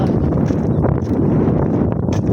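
Strong wind buffets and roars across the microphone in a loud, continuous rumble with gusty swells.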